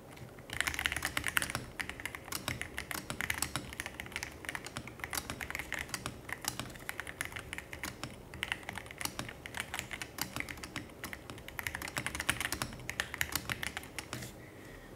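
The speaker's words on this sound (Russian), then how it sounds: "давайте попробуем сравнить, как звучит клавиатура до" Continuous fast typing on a split computer keyboard, rapid clacking keystrokes with brief pauses, close and steady throughout.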